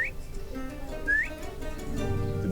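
Outdoors in Texas quail habitat, a person whistles an imitation of a quail call: two short, clear, rising whistled notes about a second apart over a low background rumble.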